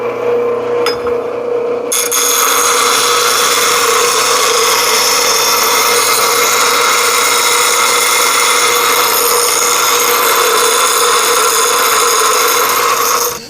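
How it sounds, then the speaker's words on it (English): Continuous harsh grinding on the metal of a 1968 Dodge Charger, loud and close, a steady rasping whine that starts after a brief pause and holds unbroken for over ten seconds. "I underestimated the line, so that way I can grind it and make it pretty."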